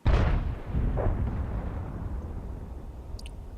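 A loud FV 207 artillery gun fires in World of Tanks, a heavy blast opening the clip, then a second boom about a second later and a long rumbling decay that fades slowly.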